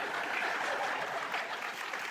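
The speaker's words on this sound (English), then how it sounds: "No, don't applaud that" Stand-up comedy audience applauding steadily throughout, a dense, even wash of many hands clapping at a consistent level with no speech over it.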